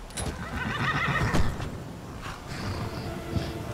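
A horse in the video game Skyrim whinnies loudly and repeatedly, with creaking tack and a few hoof clops, no voices.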